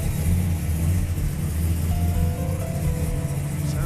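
A Ford Coyote V8 car with a big cam idles steadily, a deep low rumble holding close and continuous without any talk over it.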